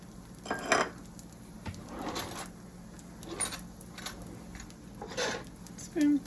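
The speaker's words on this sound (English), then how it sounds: "We're gonna go ahead and add that rice." Rice is poured and shaken into a pot for a chicken and rice dinner, giving scattered light rattling and clinking bursts close by with a few pauses between them.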